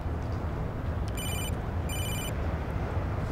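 Telephone ringing with an incoming call, two short electronic ring bursts over a steady background hum, no talk.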